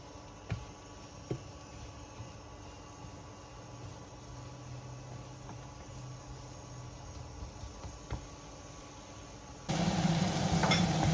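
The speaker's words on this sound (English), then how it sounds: "it's going to take a good 5 minutes of cooking the mushrooms to get the full flavor out of them" Mushrooms fry in butter in a pan, holding a steady close sizzle with a few faint clicks of stirring, then growing suddenly louder near the end.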